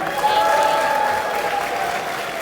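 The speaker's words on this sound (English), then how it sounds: "Give yourselves a round of applause." Crowd at an anime convention in Houston applauding, a steady wash of clapping and cheering heard briefly without a clear start or finish.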